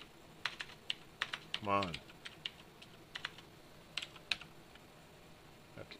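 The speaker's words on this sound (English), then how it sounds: "Dancing on the keyboard." Fast, uneven typing on a computer keyboard, sharp clicky keystrokes in irregular bursts close by, with a brief voiced sound partway through and a short spoken phrase.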